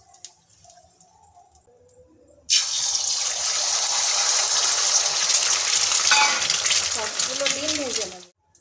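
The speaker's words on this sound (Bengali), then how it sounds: "সবগুলো ডিম ভেজে নেব। সবকটা ডিম ভেজে নিয়েছি।" Eggs hitting hot oil in a pan, a generous pour for an egg curry: a sudden loud sizzle bursts in after a quieter stretch, holds steadily for several seconds, then cuts off near the end.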